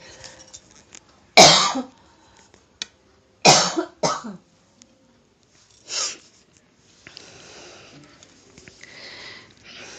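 Several loud, close coughs brought on by dust, in short bursts separated by pauses, with sniffing and quiet rustling in between.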